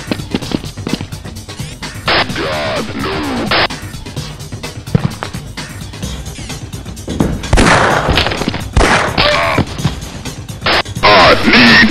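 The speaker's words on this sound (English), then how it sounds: "Suppressing fire!" Sustained gunfire in a shooter video game: sharp rapid bursts and cracking shots, loud and close, come in several volleys with brief gaps, with muffled voices between them.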